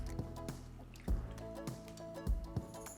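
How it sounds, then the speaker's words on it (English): Water is poured from a cup into one cup of flour in a bowl, giving a close, wet dribbling and squelching with a few heavier splashy drops, and no talk over it. "I'm going to add 1 cup of water to my 1 cup of flour in my bowl,"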